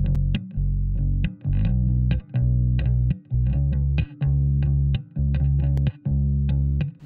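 Electric bass line layered with a sub bass for a cover, playing a loud, steady groove of sustained low notes in repeating phrases with short gaps between them and no voices.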